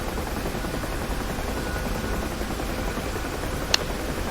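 A UH-1H Huey helicopter flies low over Dubai in DCS, its rotor and turbine making a steady, dense, even roar that fills the whole clip, broken once by a brief sharp click.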